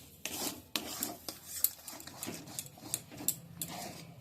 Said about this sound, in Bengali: গ্যাসের আঁচটাকে মিডিয়ামে রেখে আর এটা নেড়ে চেড়ে একটু শুকনো মতো করে নিচ্ছি